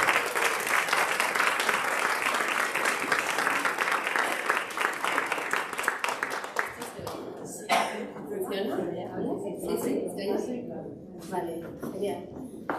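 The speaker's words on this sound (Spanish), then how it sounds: "Un aplauso para Casilda Delgado" Audience applause following a chiropractic practice talk, a dense round of clapping for about seven seconds that then thins into scattered claps and murmuring voices.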